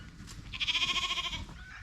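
A pig that survived a flood cries out once in a single drawn-out, bleating squeal. The call is fairly close and stands alone over a low outdoor rumble.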